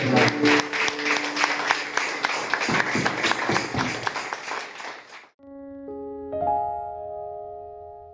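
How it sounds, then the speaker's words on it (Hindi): A church congregation at a Sunday service claps in loud, sustained applause for about five seconds, then falls silent as a few sustained keyboard notes ring out. "आपका उत्तम ताली केवल यीशु मसीह के लिए।"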